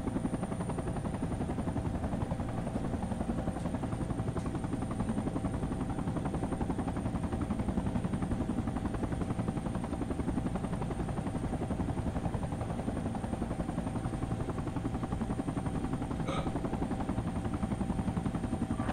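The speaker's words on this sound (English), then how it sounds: "Chopper, chopper, chopper." A helicopter flies in the military shooter Battlefield 2: Project Reality, a steady low rotor drone that holds at an even loudness throughout with no talk over it.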